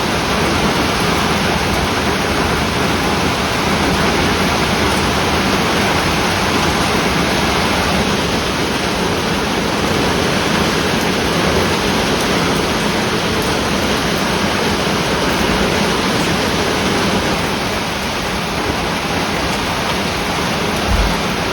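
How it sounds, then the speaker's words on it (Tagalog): Very heavy typhoon rain and wind in Japan pour down in a dense, steady roar that stays loud and unbroken throughout, with no voices. "Napakalakas na ulan"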